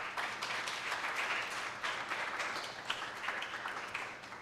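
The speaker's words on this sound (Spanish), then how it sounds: "Dele un aplauso al Señor." A church congregation claps in praise to the Lord during a sermon. Many hands make a fairly soft, sustained applause with a few sharper claps standing out near the end.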